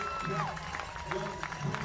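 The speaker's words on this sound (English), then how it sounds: "Listen to these fans." Stadium crowd of football fans roaring and cheering in a steady, dense wash of noise, with a broadcaster's voice talking over the top throughout.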